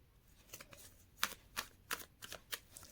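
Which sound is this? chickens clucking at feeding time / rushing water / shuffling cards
shuffling cards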